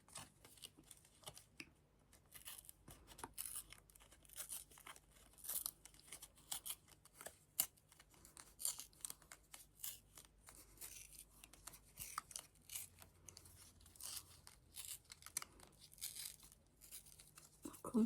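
Paper being torn by hand for a scrapbooking card, a series of quiet, close rips and crinkles in irregular bursts over a faint low hum, with no speech.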